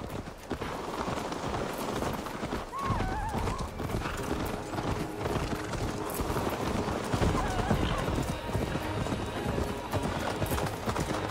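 Horse hooves clop steadily over a dense, busy Assassin's Creed Valhalla game soundscape, with voices talking intermittently throughout.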